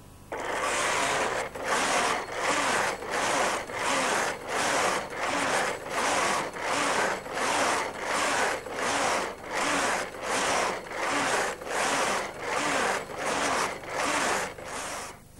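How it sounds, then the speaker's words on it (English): A Brother knitting machine knits a stitch pattern, its carriage sliding back and forth in a steady rhythm of rasping, zipper-like passes, about fourteen even strokes roughly one second apart, moderately loud with no speech. "That means the machine's ready to begin knitting on row 1 of our stitch pattern."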